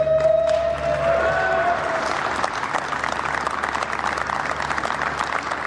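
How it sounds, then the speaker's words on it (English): Factory workers applauding together, a dense burst of clapping that starts loud and thins slightly as it continues, with a tonal hum and faint voices mixed in early. "Factory workers who've planned this moment for months paused to applaud the achievement."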